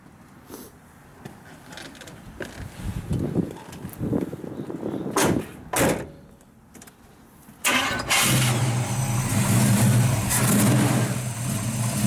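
A 1972 Chevrolet Cheyenne 454 short-box truck gives a few scattered clicks and thumps, then its big engine catches near the end and settles into a loud, steady, rumbling idle close by, with no talk.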